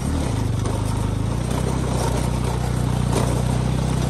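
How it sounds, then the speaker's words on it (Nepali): Motorcycle engine labouring on a steep, rough off-road track, a close, steady low drone with a rhythmic throb, loud and continuous throughout. "बाटो ठिस भएर बाइकले तानेन"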